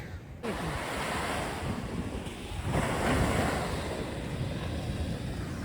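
Sea waves break and wash continuously onto a sandy beach, a loud, steady surf roar that swells midway, with wind buffeting the microphone throughout.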